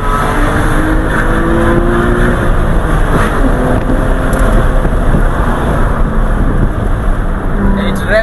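A Porsche 911 Carrera with headers exhaust revs loudly and continuously close by, a dense roar. Excited voices talk over it.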